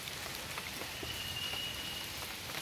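Rain falls steadily during a local flood near a pond, a soft, even hiss of drops on surfaces that stays faint and continuous throughout.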